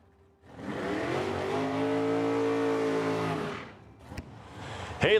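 A dragster and a door car launch side by side in a first-round drag race at the Oil City Classic in Edmonton. Their engines build to a loud, sustained roar for about three seconds, then fade before a short, loud burst closes the clip.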